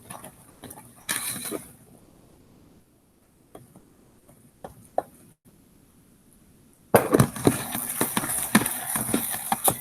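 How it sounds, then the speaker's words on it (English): Cream puff dough stirred vigorously in a pan over medium heat gives irregular knocking and scraping clicks, sparse at first, then a dense, louder stretch of rapid stirring toward the end. "And I'm going to stir vigorously over medium heat."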